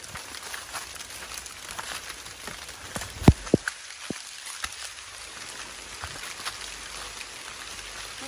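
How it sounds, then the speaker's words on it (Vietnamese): Steady rain patters outdoors in a soft, even hiss with a few sharper knocks and clicks near the middle. "Ui mưa mưa."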